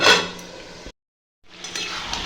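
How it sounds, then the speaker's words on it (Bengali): A metal lid lands on a pan of cooking chicken with a brief clatter and clink, then a short silence before soft sizzling and light rattling resume close by. "এবার ঢাকা দিয়ে দেবো"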